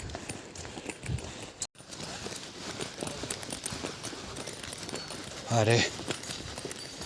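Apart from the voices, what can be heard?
horses clip-clopping on mountain path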